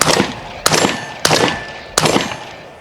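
Four loud, sharp gunshots from a Beretta rifle at an outdoor shooting range during a trade show range day, fired at an even pace with ringing echoes between them.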